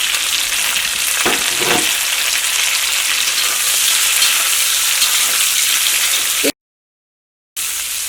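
Chopped onions and capsicum sizzle loudly in a hot pan for chilli chicken, a dense, close frying hiss with occasional stirring scrapes and a brief dropout near the end.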